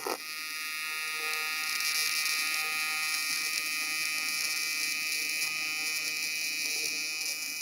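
A TIG arc from an Everlast welder buzzes steadily and loudly while keyholing through plate, a continuous bright hiss-buzz holding constant for several seconds with no talk over it.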